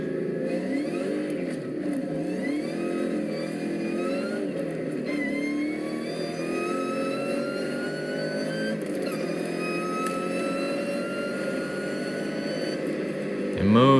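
A 2003 Ford Cobra accelerates hard along a town street, its engine note climbing steadily through gear after gear with brief dips at each shift, loud and sustained throughout.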